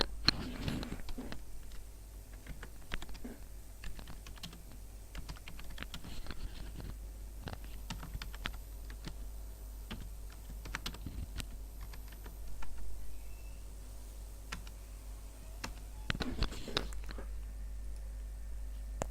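Keys on a computer keyboard clatter in irregular bursts of quick taps, close and fairly clear over a low steady hum, with no talking.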